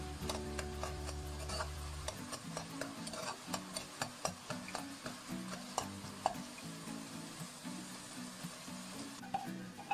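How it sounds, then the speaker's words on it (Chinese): Minced garlic stir-fried with sugar, salt and seasonings in a pan, giving a soft steady sizzle with repeated scraping strokes of a spatula, quiet and close. "把所有的调料炒香"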